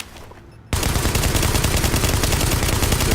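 Sustained automatic gunfire from Tom Clancy's The Division, a quiet lead-in then a sudden loud burst of rapid overlapping shots continuing steadily to the end, no voices.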